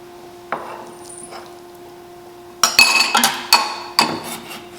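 Ginger and green onion being mixed in a bowl for Cambodian lemongrass chicken: a few soft knocks early, then a run of sharp clinks and taps of utensil against bowl, close and fairly loud.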